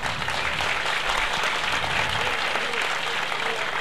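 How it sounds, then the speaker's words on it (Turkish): Steady, dense applause from a large crowd at an outdoor oil wrestling final in Denizli, a continuous roar of many hands clapping at close to moderate distance with no pauses. "Her meydanımızda kıran kırana güreş yapan koç yiğitler sizden kocaman alkış ister."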